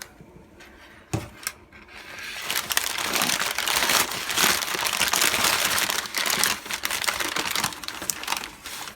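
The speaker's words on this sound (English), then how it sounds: "By the way, this is very durable packaging." Crinkly plastic packaging from a parcel sent from Canada rustles and crunches close by as it is unwrapped, with bursts of crumpling that swell after a brief quiet start.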